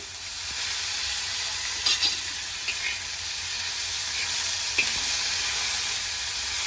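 Tomato with coriander and mint leaves frying in oil in a pan, giving a steady close sizzle and hiss with a few faint stirring scrapes, no voices.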